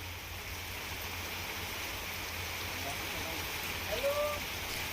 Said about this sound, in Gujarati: અસહ્ય ઉકળાટ બાદ ધોધમાર વરસાદની શરૂઆત થઈ છે